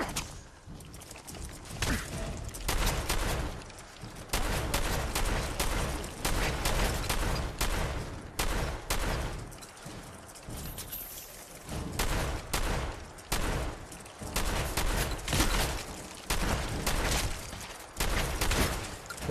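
Gunfire in the video game Fallout 4: sustained bursts of rapid shots and volleys that keep going for a long stretch, broken by brief pauses, loud and close.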